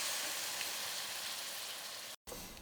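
Bolognese meat and vegetables frying in a pan give a soft, even hiss that continues steadily and fairly quietly, broken by a brief full dropout near the end.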